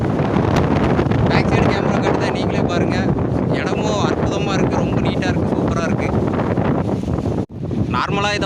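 Strong wind gusts across the open Kadana river dam, roaring and buffeting the microphone in a loud, continuous rush, while people talk over it.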